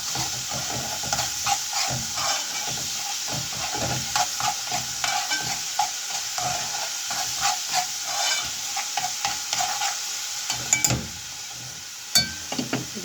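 Garlic with coriander sizzles in oil in a pan while being stirred for Egyptian koshari, a steady close hiss with scraping and stirring clicks running throughout.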